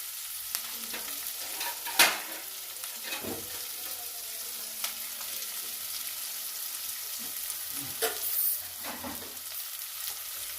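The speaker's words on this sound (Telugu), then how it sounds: "ఇప్పుడు ఉల్లిగడ్డలు కొంచెం వేగినాయి" Onions fry in a pan for a spinach and fenugreek leaf stir-fry, giving a quiet, steady sizzle with occasional sharp clicks and scrapes from a stirring utensil.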